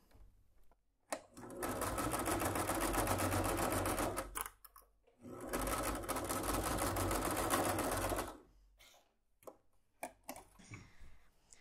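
A sewing machine stitches a seam on a small fabric toiletry box, two steady whirring runs of rapid needle clatter separated by a short pause, followed by soft handling clicks.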